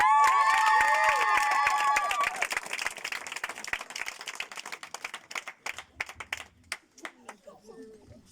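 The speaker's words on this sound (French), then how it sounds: "On acclame très fort." A crowd at a pastor's birthday celebration claps and cheers loudly, with dense applause and raised voices at first, then thinning into scattered individual claps and shouts toward the end.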